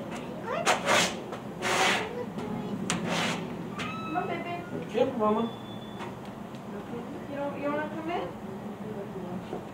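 Several short cat meows come and go near the microphone, mixed with people talking and some light household clatter.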